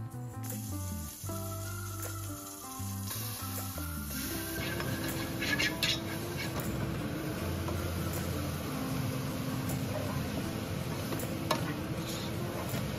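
Vegetables with onion and garlic sizzle and crackle in a hot pan during a quick, light sauté after a short burst of music, with occasional scraping clicks from stirring, steady and close.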